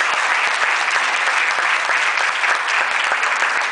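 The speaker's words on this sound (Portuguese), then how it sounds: "Então vamos dar uma linda salva de palmas para Jesus." A Portuguese-speaking church congregation claps together for Jesus during a sermon, a loud, dense, continuous round of applause from many hands that stays steady throughout.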